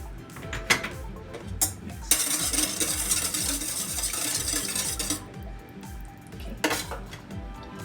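BBQ rib ingredients with black pepper being stirred together in a pan on the stovetop, a steady close scrape and clatter of utensil against the pan with a few sharper clinks, and a brief sizzle underneath.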